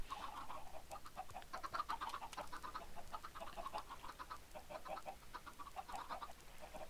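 Chickens on a video game chicken farm cluck in a busy, overlapping chorus, short repeated clucks and squawks at low volume, steady throughout with no talking.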